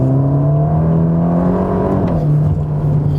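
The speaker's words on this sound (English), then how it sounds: "So I'm driving in race mode." A Ferrari Roma driven in race mode, its engine note a steady, loud drone close up that rises slightly in pitch, then dips and settles near the end.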